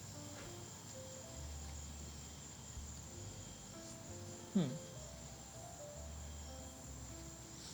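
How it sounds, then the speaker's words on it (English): Steady high-pitched cricket chirping fills a quiet night ambience, constant and moderately faint, with a brief low thump partway through. "But yeah, more crickets."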